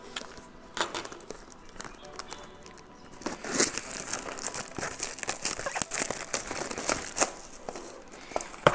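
Plastic wrapping on a Yu-Gi-Oh! booster display crinkles and rustles close by as it is torn open, growing busier and louder halfway through, with a voice briefly present.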